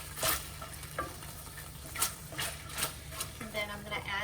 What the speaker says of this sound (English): Just gonna give this a quick stir.